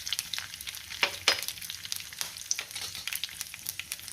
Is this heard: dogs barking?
no